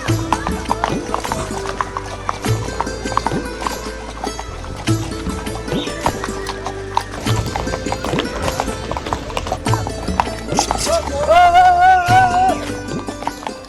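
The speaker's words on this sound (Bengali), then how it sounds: "এই ঘোড়াটা বড় ঘোড়া" Horse hooves clip-clop with an occasional whinny during a horse ride in Kashmir, steady and fairly close beneath music and voices, with a high neigh-like tone near the end.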